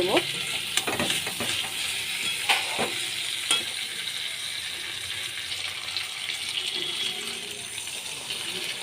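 Water poured into a pan of frying katla fish curry with spring onions and potatoes, setting off a steady close crackling sizzle with splashy bursts and stirring clatter over about nine seconds, no voices.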